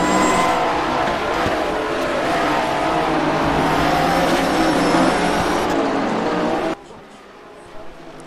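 GT race cars racing at Virginia International Raceway, engines roaring loud and sustained close by with a rising pitch, then cutting to near quiet at the end. A commentator talks over the noise.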